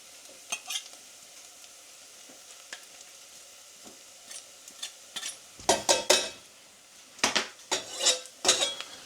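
Crushed garlic cloves frying in a pan with a faint low sizzle, broken by several sharp clinks and scrapes of a utensil stirring against metal, growing busier toward the end.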